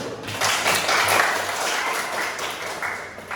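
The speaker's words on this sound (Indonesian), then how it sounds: "Tepuk tangan dulu." Schoolchildren in a classroom applaud their classmates' presentations at the teacher's request, a burst of many small hands clapping that rises quickly and holds fairly steady, then thins slightly toward the end.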